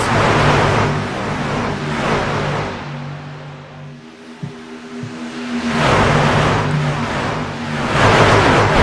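Race truck engines in a Nexus Motor City Truck Series race at Daytona International Speedway roar loudly as a pack passes close by, then ease to a lower rumble before a second thunderous wave of trucks sweeps past.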